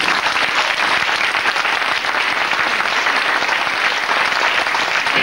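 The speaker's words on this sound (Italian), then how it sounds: "Farei loro un applauso." Loud, dense audience applause for the cast of a children's musical of Snow White and the Seven Dwarfs, a continuous even wash of clapping with no break.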